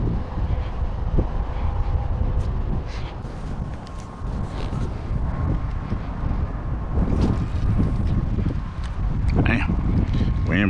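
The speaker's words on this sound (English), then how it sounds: "wind blowing like crazy" Strong wind roars and buffets the microphone steadily throughout a bass-fishing trip on the water, loud and continuous with some gusty surges.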